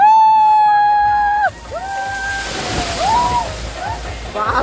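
Water pours in a steady broadband rush from a waterfall at a resort in Tetavali, Dapoli, loud and continuous throughout, with voices calling and shouting over it.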